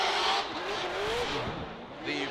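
A Vortex supercharged V8 Nissan S14 240SX drift car at the Motegi Super Drift Challenge, its engine revving with rising and falling pitch over tire noise, under a commentator's voice.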